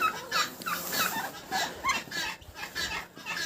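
A Bourbon turkey in a farmyard gives repeated bursts of gobbling and clucking calls, fairly faint, with brief pauses between them.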